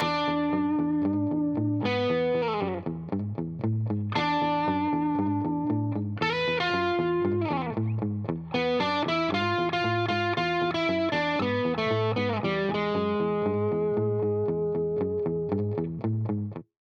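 Heavily distorted electric guitar plays a horn melody as a sustained line over a looped chugging backing riff, loud and continuous, with notes sliding between pitches.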